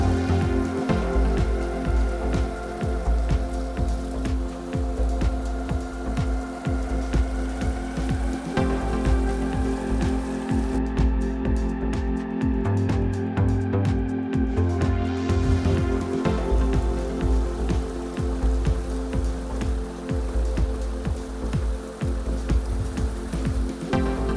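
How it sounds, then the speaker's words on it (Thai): A waterfall and mountain stream near a morning campsite in the hills of Chiang Mai, Thailand, rush with a constant, hissing wash of flowing water that continues unbroken for the whole stretch. "เสียงน้ำตก เสียงลำธาร"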